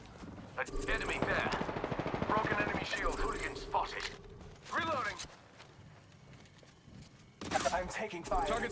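Bursts of gunfire from an online ranked shooter match ring out over game character voice lines and ability effects, with loud clustered shots early, a quieter stretch, then another burst at the end.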